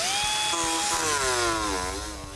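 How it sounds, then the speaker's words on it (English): An angle grinder with a 36 grit cutoff wheel trims an opening during a truck build, a loud, continuous high whine whose pitch sags and then drops as the wheel slows, close by, with no speech. "I'm actually using an angle grinder and a 36 grit cutoff wheel to trim the opening."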